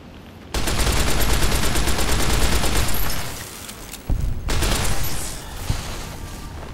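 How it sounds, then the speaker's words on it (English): Sustained bursts of video game gunfire in Fallout New Vegas, Lonesome Road, with rapid overlapping shots filling the first half, a short lull, then renewed sharp volleys and single cracks toward the end, loud and close with no talking. "They shooting at me right now"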